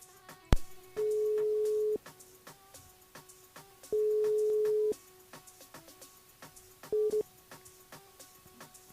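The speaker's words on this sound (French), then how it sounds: "on appelle Alice sur le standard" A telephone line signals during a French radio call-in show, three steady electronic tones at even intervals, two long and a final short one, with faint background noise and no talk.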